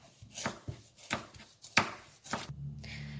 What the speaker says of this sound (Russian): И нарезаю морковь.